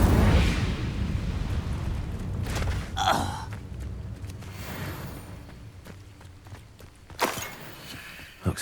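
In the Hogwarts Legacy video game, an Incendio fire spell is cast, a loud whooshing burst that erupts and roars briefly, followed by crackling and scattered impacts amid game ambience.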